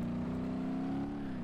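A car engine in BeamNG.drive drones and revs steadily with a rising, whirring pitch, loud and sustained, without a voice over it.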